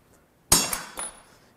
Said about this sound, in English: just going to use the hammer side of that